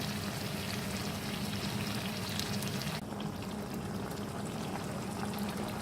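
Mutton karahi fries in a pan with a dense, steady sizzling hiss that stays loud and continuous, easing slightly partway through.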